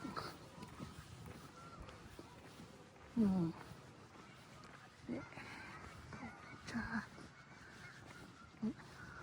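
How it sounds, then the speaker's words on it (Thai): White domestic geese honk in a farming village beside harvested cornfields, giving a few short, separate honks at intervals over steady outdoor background while a person talks. "บ้านเราก็เรียกห่าน แต่ห่านบ้านเรามันจะเป็นสีขาว"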